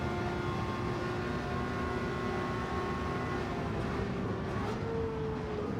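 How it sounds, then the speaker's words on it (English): A race car engine drones steadily in Gran Turismo 7 during a Le Mans race with Ford and Ferrari cars, a continuous sustained tone that shifts slightly in pitch near the end, with no talk over it. "Just like to sit and listen to the sound of the engine."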